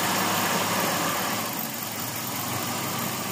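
A Toyota Corona with a 3S engine idles in drive under load, a steady close mid-pitched engine drone with a slight vibration that dips a little in level partway through, alone without talking.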